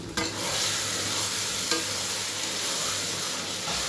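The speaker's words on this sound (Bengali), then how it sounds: "লবণটা দিয়ে ভালো করে একটু নেড়ে মিশিয়ে দিচ্ছি।" Chicken curry with salt is stirred in a hot pan: close, continuous sizzling and frying hiss with scraping from the spoon, plus a couple of sharper knocks.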